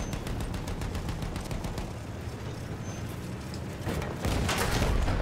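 Sustained battlefield gunfire in Battlefield 1, rapid overlapping shots and bursts crackling continuously at close range, growing louder and denser toward the end.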